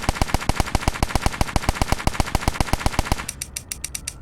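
Rapid automatic gunfire from a Unity third-person shooter, a steady stream of about two dozen evenly spaced sharp shots that stops as the magazine runs dry, followed by a few lighter mechanical clicks.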